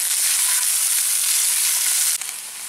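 Thoyyal keerai greens sauté in a hot pan with a loud, steady sizzle that runs unbroken and close, easing slightly near the end, with no voices.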